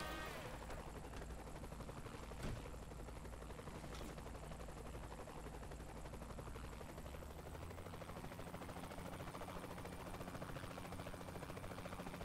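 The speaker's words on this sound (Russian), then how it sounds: "из-за того, что вертолет по-идиотски поворачивается" A helicopter in Saints Row: The Third Remastered gives a continuous rotor drone, steady and fairly loud, with a couple of faint sharp pops mixed into the throbbing hum.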